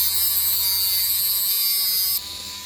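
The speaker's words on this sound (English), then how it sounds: "I don't recommend that you use that bit for your Dremel" A Dremel rotary tool fitted with an unsuitable bit trims down a part of an MN45 RC car. A loud, steady, high motorized whine runs close by, then drops to a lower, lighter pitch just before the end.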